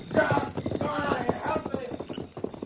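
Horse hooves clip-clop in a quick, uneven patter of hollow knocks at close range, mixed with speech throughout.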